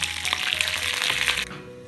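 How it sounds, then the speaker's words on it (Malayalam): Mustard seeds, dried red chillies and curry leaves crackle and pop sharply in hot oil for a fish curry tempering, a dense burst of sizzle that stops abruptly, leaving faint background hum. "എണ്ണ ചൂടാവുമ്പോൾ അതിലേക്ക് അര സ്പൂൺ കടുകും ഒന്നോ രണ്ടോ വറ്റൽ മുളകും കുറച്ച് കറിവേപ്പിലയും കൂടെ ചേർത്ത് പൊട്ടിക്കാം"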